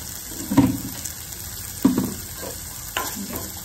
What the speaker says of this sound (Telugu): ఈ విధంగా మంచిగా వేగనిద్దాం కొద్దిసేపు బ్రౌన్ కలర్లోకి